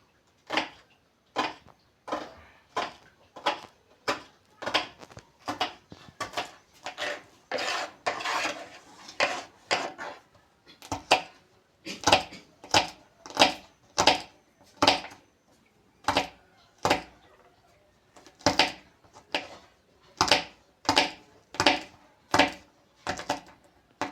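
Yardlong beans being sliced with a knife on a cutting board, a steady run of crisp, evenly spaced chops close up, with a brief pause partway through.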